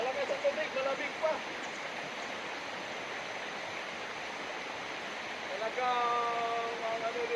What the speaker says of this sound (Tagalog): Malakas ang tubig, malamig pa.